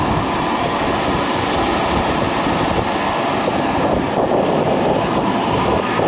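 A tractor drilling beans crosses the wettest of the fields, a steady broadband engine and rolling rumble mixed with heavy wind buffeting that stays loud and continuous throughout.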